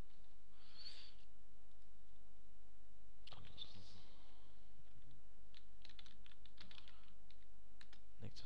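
Typing on a computer keyboard, scattered soft key clicks in short bursts against a steady background hum, fairly quiet.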